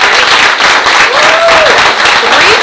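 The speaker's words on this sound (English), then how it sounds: "If we could please give them a round of applause," Loud, sustained applause from an audience at a school board meeting, a dense, steady clatter of many hands clapping up close, with a few faint voices mixed in.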